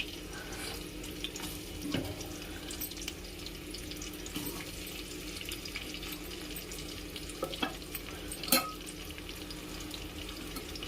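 Chopped onions and two or three green chillies frying in hot oil in a home kitchen pan for egg fried rice, a steady low sizzle with a few soft utensil knocks, moderately close and without talk.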